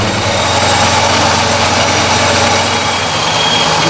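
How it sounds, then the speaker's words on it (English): Procharged Dodge Charger Scat Pack at idle, a loud, steady, close engine drone with a deep low rumble and broad whine that holds even throughout. "Just gonna let it idle until the thermostat opens."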